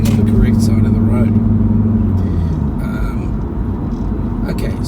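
A car cruises along a wide multi-lane road in Melbourne, its steady engine and road rumble running continuously from inside the cabin while someone talks over it.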